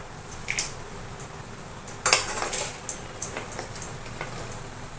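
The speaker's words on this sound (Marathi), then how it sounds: "हे बघा आता आपण हे शेंगदाणे भाजून घेऊया" Peanuts roast in a pan for makhana chivda, stirred with a metal spoon, giving a run of light scraping clinks and rattles against a soft background hiss.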